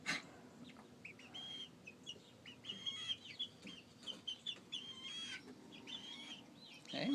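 Young chickens growing up, clucking and chirping in repeated short bursts at close range, a busy flock with scattered higher peeps and no talk.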